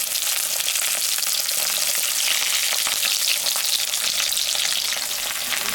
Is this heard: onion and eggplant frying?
yes